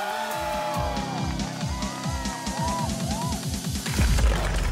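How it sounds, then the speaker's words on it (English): A toy Hot Wheels monster truck skidding into barrels, with repeated rhythmic engine revs and squealing tire slides, loud and close, ending in a burst of noise. "This car skids into the barrels and up the ramp"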